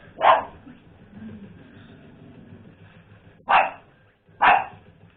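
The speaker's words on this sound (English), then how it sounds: "It barks at the most inconvenient times on planet Earth" A pet dog gives three sharp, close barks, one early and then a quick pair near the end, separated by quiet stretches.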